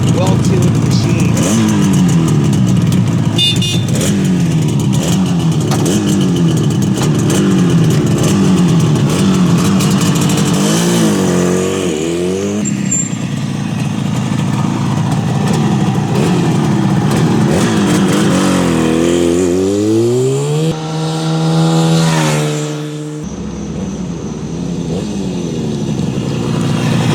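A 1972 Yamaha YDS7 250 motorcycle with its original intact baffles revs loudly and steadily, its note climbing and falling through repeated throttle blips before a sharp rise near the end, heard close up and continuously throughout.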